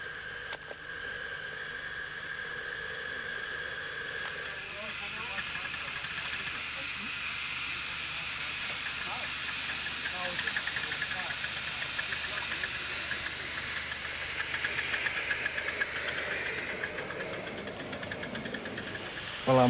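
A live steam miniature railway locomotive on a club's field behind a row of houses hisses steadily and fairly loudly for the whole stretch, with faint mechanical clanks underneath and the hiss swelling near the end.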